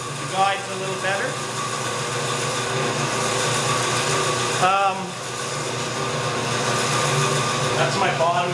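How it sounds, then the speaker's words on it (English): A 1935 Speedxa bandsaw runs with its bottom guide rattling and whirring, a steady close mechanical drone with faint tonal whine, while someone speaks briefly over it. "That's my bottom guide, making all that noise."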